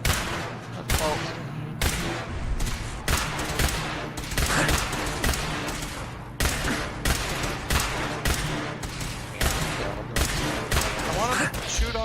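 Gunfire in Fallout 4, with dense repeated shots cracking in rapid bursts across the whole stretch, loud and close, in a busy combat soundscape with only brief lulls.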